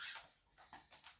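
Brief whimpering from a dog indoors during an online class: a few short, high, thin whines in quick succession, close and fairly quiet.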